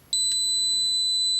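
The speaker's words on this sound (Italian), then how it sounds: "Nella funzione prova diodi abbiamo anche il prova continuità con il bip" Fnirsi ST2 tweezer LCR meter's continuity tester sounds a steady, high-pitched electronic beep that starts abruptly and holds for over a second, clear and alone in a quiet room.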